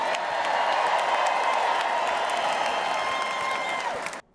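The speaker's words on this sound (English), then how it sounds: "the Texas senator was received with applause as he prayed for the former president's safety" Applause for a Texas senator at a political convention, sustained crowd clapping and cheering heard from a distance, fading out abruptly at the end.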